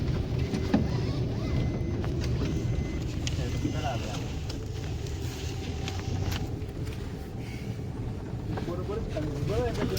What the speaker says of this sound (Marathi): बघा किती कॉन्फिडन्स गाडी चालवतोय. एक पण खड्डा चुकवत नाही.